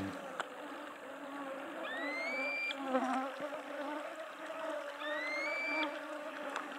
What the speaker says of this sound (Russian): Ай, комары.